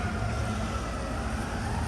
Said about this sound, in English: Oh, the ambulance is going too.